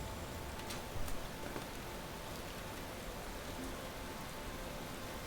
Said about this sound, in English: Okay, there's the rain on.